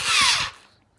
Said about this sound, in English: Okay, so this drill will spin it up to